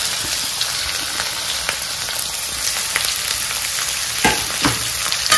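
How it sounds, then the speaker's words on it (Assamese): Thinly sliced onions frying in hot oil for a pork curry, a loud continuous sizzle close up with occasional stirring scrapes and crackles. "পিঁয়াজখিনি অকণমান ধুনীয়াকৈ ভাজি ল'ম"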